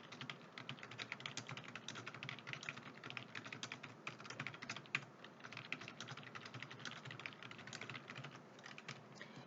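Rapid, steady clicking of a computer keyboard while entering text into an Excel spreadsheet, close and quiet, keys tapped in quick irregular bursts with no talking.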